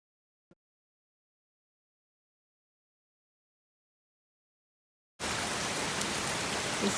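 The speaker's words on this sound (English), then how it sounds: "it's really raining pretty bad out here" Heavy rain pours down outdoors on a dark, cold, wet night beside a newly installed Leaf Filter gutter, a dense steady roar that starts abruptly after a long silence broken by one small click.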